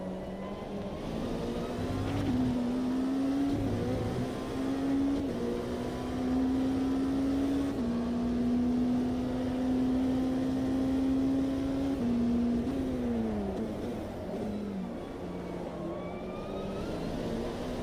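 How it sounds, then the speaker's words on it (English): Race car with a straight-cut gearbox in AMS2, a steady high tonal transmission whine riding over the engine drone, climbing and dipping with gear changes across a sustained run. "Love the transmission whine. I wonder if it's a straight cut gearbox."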